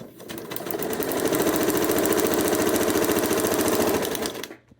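Sewing machine stitching a seam on quilt pieces, a fast steady mechanical whir with rapid needle clatter, close and loud for several seconds before stopping abruptly.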